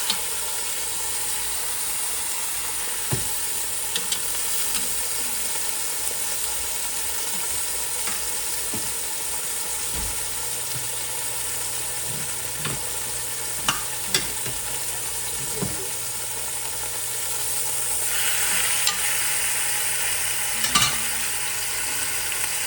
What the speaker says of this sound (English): you actually want to sear every single side on medium-high heat